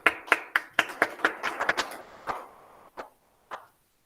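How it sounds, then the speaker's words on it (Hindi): Sparse hand clapping after a group dance performance at a scouts' award camp, about a dozen distinct claps in a quick rhythm that thin out and fade to a few isolated claps. "समूह नृत्य की इस प्रस्तुति के लिए शानदार तालियां"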